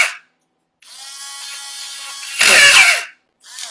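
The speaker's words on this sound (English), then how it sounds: "So I'm going to drill some holes in it." A power drill bores holes into a plastic trash can, whining steadily for a couple of seconds, then rising into a louder, rougher grind as the bit cuts through, with brief pauses between runs and no talking.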